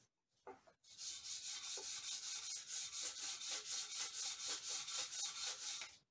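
A motorcycle swingarm from a 1991 Honda CR250R gets rubbed back and forth to restore its scratched original finish. About twenty even, rhythmic rasping strokes sound close up after a few soft knocks at the start.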